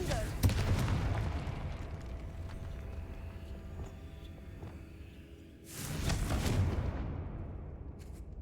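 Explosive fire spell cast in a Hogwarts video game, bursting at the start and again near the end, with crackling rumble and scattered game sounds between blasts.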